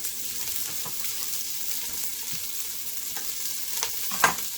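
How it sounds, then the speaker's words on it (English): Green onions hitting a hot pan, a continuous bright sizzle with light stirring scrapes and a brief clack near the end, no voices. "So now my pan is good and hot. In with green onions."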